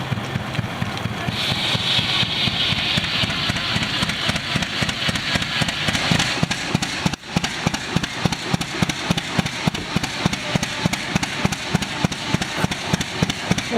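An antique tractor engine at a St. Joe Valley show runs steadily with a fast, even chuffing beat, loud and close throughout with no talk.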